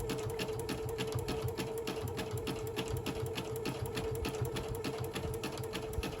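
A sewing machine runs a steady straight stitch across a decorative hot pad, its fast needle chatter holding an even mechanical rhythm throughout, loud and close with no talking.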